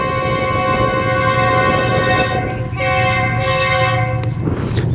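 A Pakistan Railways passenger express sounds its horn in thick fog, a loud sustained multi-tone blast held almost continuously over the rumble of the passing train, close by.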